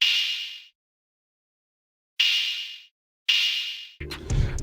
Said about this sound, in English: And then we have an open hat.